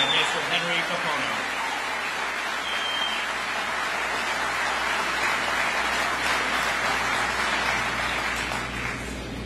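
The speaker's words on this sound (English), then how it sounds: "Please offer a round of applause for our national anthem that was sung by Master Sergeant Magsino and Hawaii State Song by Mr. Henry Paparo." A large audience at a military change of command ceremony claps steadily for the national anthem and state song singers, forming a dense, even wash of applause that holds at a constant level throughout.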